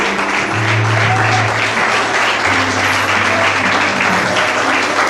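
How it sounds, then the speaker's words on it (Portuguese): Church congregation applauding during a worship service, a steady, dense wash of clapping that carries on throughout at close, loud level, with low organ or keyboard tones sustained underneath. "Você pode aplaudir ao Senhor."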